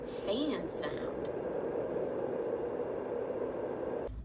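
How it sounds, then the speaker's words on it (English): A Yogasleep Dohm white noise machine with a real fan inside gives a steady, even broadband whoosh, constant and unbroken throughout. "It has a real fan inside, so there's no fake sound, no looping sound, just consistent and soothing fan sound."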